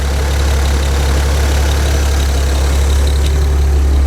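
A GM 270 truck engine idles steadily while warming up, giving a loud, continuous low rumble with an even throb that holds for the whole stretch, with no talking over it.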